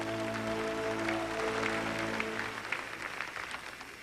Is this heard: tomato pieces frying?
no